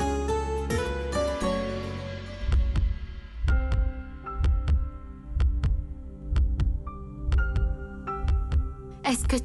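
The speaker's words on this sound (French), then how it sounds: "Est-ce que tu entends mes battements de cœur?" A steady, thumping heartbeat pulses low and regular under soft music, with a short melodic phrase opening and a bright chime near the end.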